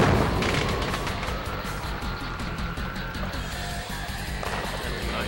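Fireworks pop and boom in a rapid, dense barrage at a Halloween giant snail race, the loud crackling bursts running continuously with no voices heard.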